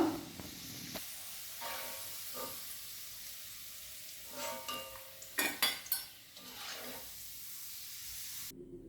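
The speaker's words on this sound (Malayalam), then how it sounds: "എൻ്റെ വെളുത്തുള്ളി ഈ പരുവത്തിലായിട്ടുണ്ട് ഇനി കൂടുതൽ മൂക്കണ്ട നമുക്കത് കോരിയെടുക്കാം" Fried garlic is lifted out of a hot pan with a metal spoon, giving a low background sizzle broken by several sharp scrapes and clinks against the pan, a cluster of them bunched together near the end.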